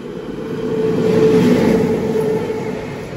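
A passenger train with a November 2018 Rail Coach Factory Kapurthala coach pulls away after a halt outside Samalkot, giving a steady, loud rolling rumble that swells midway and then holds.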